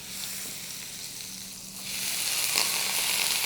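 Shiitake mushrooms sizzle in olive oil and butter in a pan, a continuous bright hiss up close that swells louder partway through.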